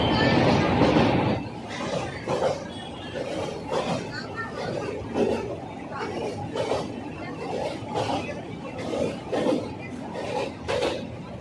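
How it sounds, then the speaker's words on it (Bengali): The Darjeeling Mail train runs at about 130 km/h, heard from inside a coach as a loud rolling roar with rhythmic clatter of wheels over rail joints, and people chatter faintly throughout. "আর তখন ট্রেনের গতি ঘন্টায় প্রায় 130 কিমি ছুঁই ছুঁই।"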